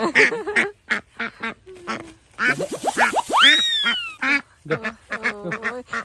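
A domestic pet duck quacks loudly and close, in bursts of harsh nasal calls with short pauses between them and a rising squawk partway through.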